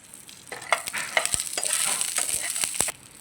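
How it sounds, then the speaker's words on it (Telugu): Green chillies stirred in a hot pan with a spoon of oil, giving a steady close sizzle broken by sharp scraping clicks of the spatula, for about three seconds before the sound cuts off. "పచ్చిమిర్చి వేస్తున్నాను ఒకసారి తిప్పుదాం"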